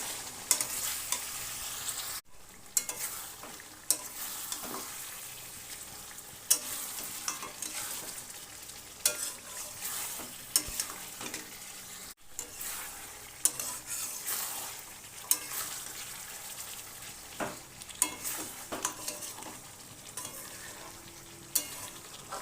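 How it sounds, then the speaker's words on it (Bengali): Chicken meat stir-fried in an open pan over medium-low heat, with a continuous soft sizzle and frequent clicks and scrapes of a spatula against the pan in irregular rhythm, close by and without voices. "ঢাকনা খুলে দিয়ে আরও 5-6 মিনিট ভালো করে কষিয়ে নেব।"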